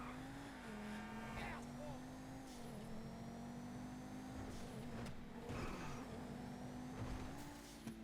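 A video game car engine drones and revs steadily throughout, with pitch rising and dipping through gear changes and some screeching tire noise, heard fairly quietly.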